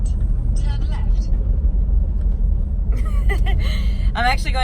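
A car with a 1JZ engine drives along, its steady low rumble continuous throughout, with voices talking over it toward the end.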